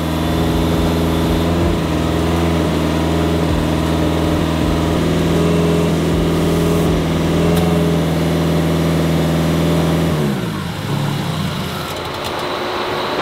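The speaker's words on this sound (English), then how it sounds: "I can keep it alive by giving it gas, but at idle, it just dies." An STI-swapped Subaru WRX engine runs at a steady, loud idle with a rough low thrum, then falters and sags toward a stall near the end.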